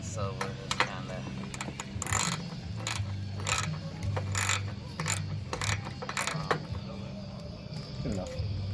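Bolts being tightened by hand on a DIY van roof rack for a solar panel: a steady run of quick ratcheting clicks and metallic ticks, close by, with a low background hum.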